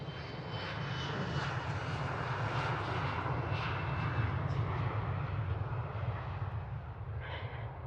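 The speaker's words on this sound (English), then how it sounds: "KLM departure as of now." A KLM airliner departing Amsterdam Schiphol Airport roars steadily with a deep, broad engine rumble and rushing hiss, sustained and fairly distant throughout, with no talk over it.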